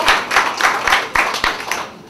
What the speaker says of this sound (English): Let's give Jenny the biggest round of applause ever.